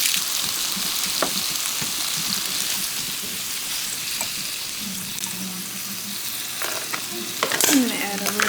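Steak sizzling in a pan with butter, a steady frying hiss with occasional clinks and scrapes of utensils near the end.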